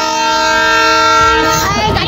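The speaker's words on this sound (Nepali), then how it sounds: "ए ट्रेन हो यहाँ मैले देखेको छु" A train passes with a loud, sustained horn tone that holds steady, then gives way to rattling wheel and carriage noise.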